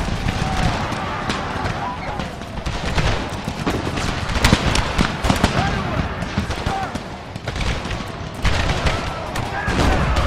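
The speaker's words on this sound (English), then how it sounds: "Very long range fire here." Long-range musket volleys crackle in a continuous dense fusillade over flat terrain during an American Civil War battle in the Empire Total War video game, with layered distant shots throughout.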